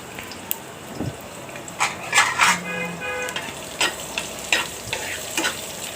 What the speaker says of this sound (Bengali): ভালো করে এখন নেড়ে চেড়ে নেব লাল হয়ে যাওয়া পর্যন্ত, যাতে একটু ভাজা ভাজা হয়